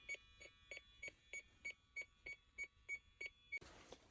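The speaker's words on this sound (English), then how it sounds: "we're going to power up our electronic leak detector" An electronic refrigerant leak detector checks an HVAC coil during maintenance, ticking out a steady run of about eleven evenly spaced high beeps, then a sudden burst of broadband noise at the end.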